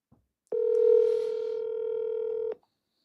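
A cell phone places a call, giving one steady two-second dialing tone, clear and close, with a faint click before it and no talk over it.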